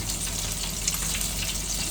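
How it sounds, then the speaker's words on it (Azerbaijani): Food bubbles at a full boil in a pot on the stove, a continuous even hiss and simmer with no one speaking. "Bu da qaynayır artıq."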